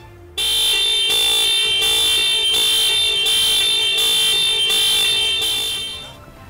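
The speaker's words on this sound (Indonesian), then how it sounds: "alarm peringatan akan bekerja, yaitu klakson berbunyi dan lampu hazard berkedip selama 30 detik" A Mitsubishi All New Pajero Sport's anti-theft warning alarm sounds its horn in loud, steady, rapid pulses that run without a break for several seconds, with no talking.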